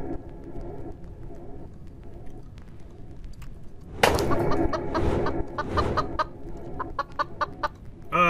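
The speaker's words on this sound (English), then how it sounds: "I need to go kill this boss chicken" A boss chicken in the video game Guillotine clucks over a low game backdrop, quiet at first, then a sudden loud burst followed by a run of sharp, rapid clucks and squawks.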